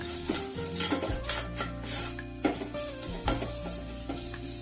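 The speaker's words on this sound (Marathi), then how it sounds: "हळदी पावडर हे सर्व एकजीव करून घेऊया।" Soy masala with red chili and turmeric powder being sautéed and stirred in a pan, loud frequent spatula scrapes and clinks over a constant sizzle.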